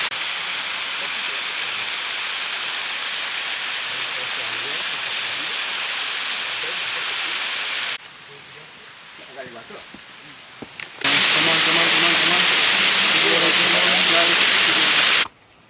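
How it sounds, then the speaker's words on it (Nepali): A small waterfall in Australia pours with a loud, steady rushing hiss close by. The roar drops to a quieter stretch for a few seconds, then returns at full strength. "यो चाहिँ सानो झरना हो"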